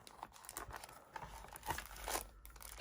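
Package of stickers being opened up close: soft crinkling and tearing of plastic or paper wrapping, faint and irregular, with no speech.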